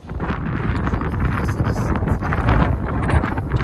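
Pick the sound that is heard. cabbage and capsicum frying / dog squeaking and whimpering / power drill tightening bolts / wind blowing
wind blowing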